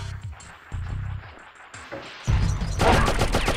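Gunfire in Oddworld: Abe's Oddysee on PlayStation, with a few sharp shots early on, then a loud, sustained crash of noise that dominates the second half.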